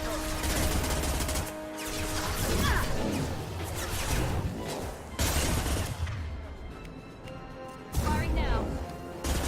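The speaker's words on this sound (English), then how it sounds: "Firing an impact shot." Impact shot fired in the sci-fi shooter Mass Effect 2, with loud crashing blasts and sharp whooshing hits that recur several times over dense battle noise and a voice speaking.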